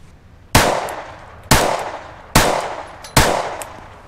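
Four loud, close gunshots from a firearm fitted with a compensator and firing factory ammunition, each a sharp crack with a short ringing tail, spaced about a second apart.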